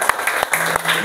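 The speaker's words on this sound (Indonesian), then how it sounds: "Tepuk tangan." Children clapping in an Indonesian classroom, a brief burst of claps with a few sharp individual hits, close and fairly loud, over about a second.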